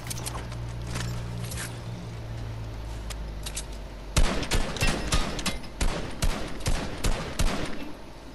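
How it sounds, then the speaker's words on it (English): Fortnite gunfire rings out in a rapid run of sharp, repeated shots in the second half, preceded by quieter in-game ambience and a low hum. "I was trying to shoot the guy the alien thing was carrying over there."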